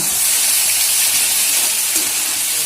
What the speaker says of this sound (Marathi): हे धने आणि पावडर मसाला चांगला तेलात परतून घेऊ आपण